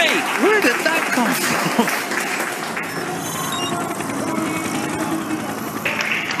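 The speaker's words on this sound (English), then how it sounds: "The crowd are on their feet." A crowd applauding and cheering at the Jakarta E-Prix Formula E race, broad sustained clapping that swells around loud commentary, with faint electric race-car whine underneath.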